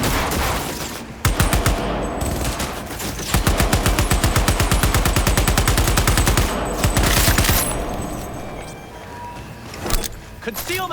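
Sustained automatic gunfire in a firefight from a video game: loud rapid volleys that run for several seconds, broken by brief pauses, with shouted voices mixed in.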